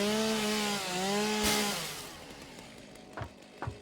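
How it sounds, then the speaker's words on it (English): A chainsaw cuts a tree in the video game Satisfactory, giving a buzzing engine drone that fades away. A couple of short thuds follow near the end. "Or get rid of the tree with the chainsaw."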